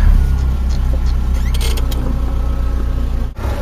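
A Toyota RV engine with about 30,000 original miles starts up and settles into a steady, loud, close idle with a low continuous hum and no voices over it.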